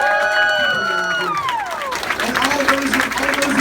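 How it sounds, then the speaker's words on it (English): Convention panel audience breaks into applause, dense clapping and crowd noise swelling after a fading musical tone and continuing steadily at close range. "one more round of applause for our amazing people"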